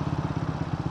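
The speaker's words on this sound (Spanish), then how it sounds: "uno se deja llevar por el sonido de la moto" A Triumph Scrambler 400cc motorcycle engine idling close by, with a quick, even chugging pulse and no voices.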